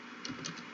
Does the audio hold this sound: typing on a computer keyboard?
yes